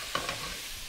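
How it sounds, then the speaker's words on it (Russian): A short burst of scraping as apples and ground cinnamon are stirred in a hot frying pan, with a soft sizzle continuing underneath. "Тщательно перемешиваю"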